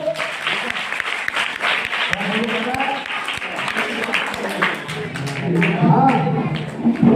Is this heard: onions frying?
no